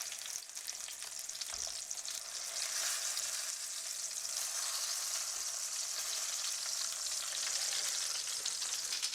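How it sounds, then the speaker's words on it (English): Portobello mushroom caps frying in a heated layer of olive oil in a pan, giving a steady, hissing sizzle that runs continuously and evenly, with no voices. "So I've heated a layer of oil, olive oil in there, and I'm just going to cook these babies until they're nice and tender."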